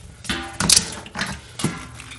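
Metallic clicks and clunks come as a beer keg coupler is worked loose from the keg, four or five short mechanical knocks spaced unevenly, close by with no talk.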